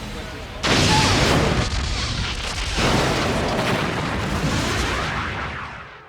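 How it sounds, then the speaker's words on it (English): A Borg cube firing its weapons in the Star Trek: Borg game, a sudden loud blast followed by heavy rumbling booms and a long decaying roar, with a voice speaking over it. "The Borg cube is firing."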